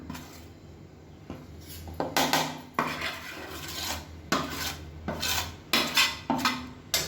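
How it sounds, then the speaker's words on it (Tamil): Black rice flour being dry-roasted in a heavy kadai, with repeated scraping and rasping strokes of a spatula against the metal pan, coming in uneven bursts over a faint background; no talking. "கடாயை எடுத்துகிட்டு இந்த மாவு நம்ம அதில் சேர்த்து நல்லா வறுத்துக்கலாம்"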